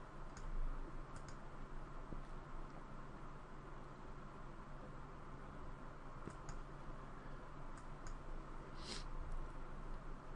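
A computer mouse clicks on a Windows PC during software removal: a few faint, scattered clicks over a steady background hiss.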